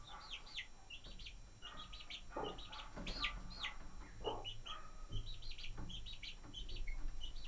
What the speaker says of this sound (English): it turns out the little chicken can get up on the perch